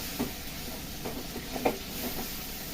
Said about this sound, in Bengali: ভালো করে কষাতে হবে মশলা